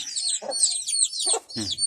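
Soft clucking and peeping from small chickens, steady and close, with a few low clucks mixed in.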